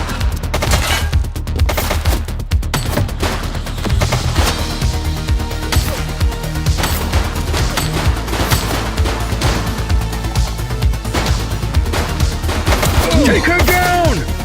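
Rapid bursts of gunfire during a police shootout in The Precinct, loud and continuous, with sharp cracks layered over dense game sound and music.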